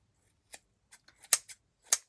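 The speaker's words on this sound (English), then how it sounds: "Snip, snip, snip." Scissors snipping through tassel threads in a small craft setup, six short crisp cuts spaced irregularly over two seconds, close and moderately quiet with no talk.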